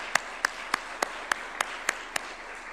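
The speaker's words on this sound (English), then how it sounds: "Please, if they can rise up so that we can applaud them" Eight evenly spaced, sharp claps ring out one after another in a steady slow rhythm, close and distinct over a quiet room, as an audience applauds parliament finance committee members.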